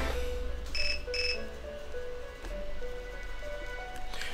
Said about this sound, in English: Your cell phone rings.